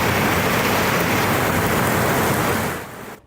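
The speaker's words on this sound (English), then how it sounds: "A downtown downpour." Heavy rain pours down in a steady, loud broadband wash outside the KSAT 12 newsroom studios in downtown San Antonio during a round of heavy showers, close and constant before fading out at the very end.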